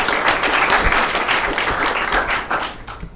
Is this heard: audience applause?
yes